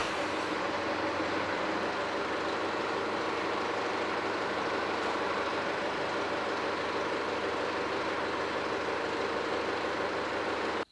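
A vehicle's engine idles steadily while its power-steering system is bled and the wheels are turned, giving a continuous broadband hum and rumble with no speech.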